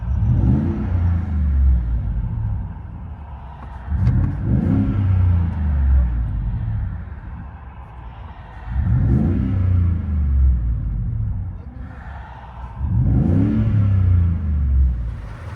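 Inside the cab of a 2018 Ford F-150 with a 5.0L Coyote V8, a Borla Sportsman straight-through muffler and dual exhaust, four deep rumbling revs swell and fall back to a low idle.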